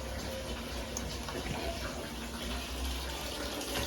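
Water from a tap pours steadily into a small washing machine, a close continuous gushing and splashing fill with no talking.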